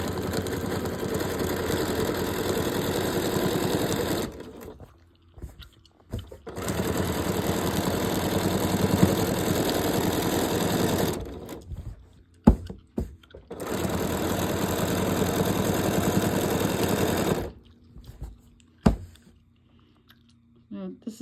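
Sewing machine running a large serpentine stitch across a quilt, a steady loud whir in long bursts with short pauses between runs.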